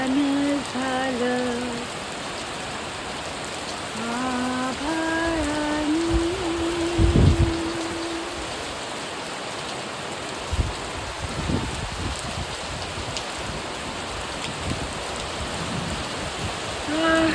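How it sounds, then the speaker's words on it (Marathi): Heavy first monsoon rain in Mangaon, Raigad patters and hisses throughout. A few brief tonal calls and scattered knocks rise over it early on. "बापरे खूप जोरातच आला आता पाऊस"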